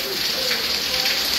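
Steady rain pours over a farm in Jamaica during flooding, a dense even hiss that stays loud and continuous throughout with no voices.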